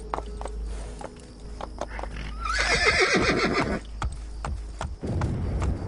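Horse whinnying loudly in the Assassin's Creed Brotherhood video game, a descending neigh in the middle of the clip with hoof clip-clops and game ambience around it.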